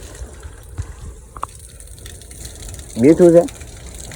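Water gushing into a farm storage tank as it fills, a low continuous rush under a brief spoken remark.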